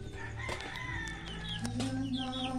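A rooster crows loudly and close by while chickens cluck around it in a backyard coop, the calls layered over steady farmyard background noise with no talking.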